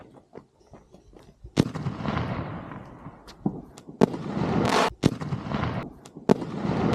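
New Year's fireworks going off nearby, with a series of sharp loud bangs and crackling bursts that each trail off into hissing and rumble, coming at irregular intervals.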